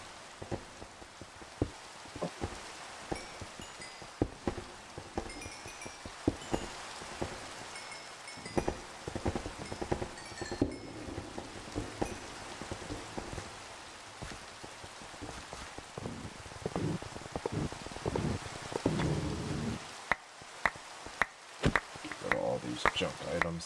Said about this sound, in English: And it's raining again. This is always raining, I swear.